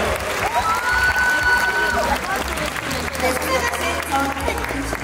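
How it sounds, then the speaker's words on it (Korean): Audience applause at the Migrants' Arirang Multicultural Festival award ceremony, a steady dense clapping wash with a voice talking over it and faint musical tones in the background. "여러분들 응원의 박수 부탁드리고요."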